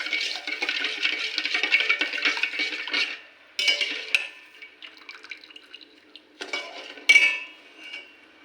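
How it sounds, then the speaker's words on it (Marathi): A spoon clinks and scrapes against a pan as sugar syrup for rava ladoo is stirred, coming in close bursts with short pauses and quieter stretches between them. "पाक कसा करायचा दाखवते. एकसारखं ढवळत राहायचं."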